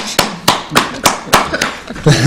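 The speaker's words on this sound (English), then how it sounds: "Round of applause for Kerry." A small studio audience claps for a guest being introduced on a talk show, producing distinct, fairly loud hand claps at an uneven rhythm, roughly eight in a row, with a busier burst of clapping building at the end.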